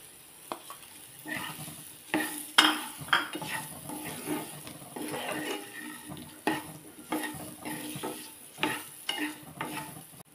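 Raw mango pieces tossed into a hot fenugreek tempering and stirred, with spoon scrapes and clinks against the pot, under a frying sizzle, repeated in an uneven rhythm, close and fairly loud.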